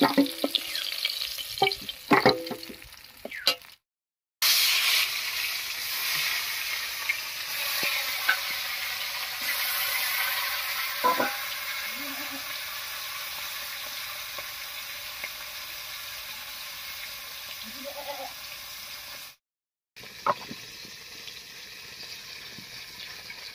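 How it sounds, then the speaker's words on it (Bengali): Live koi fish fry in hot oil with a steady, dense sizzle that runs unbroken for over twenty seconds, a few sharp clinks and stirring knocks early on, loud and close. "এই কটা মাছ ভাজা হয়ে গেছে, নামিয়ে নিচ্ছি।"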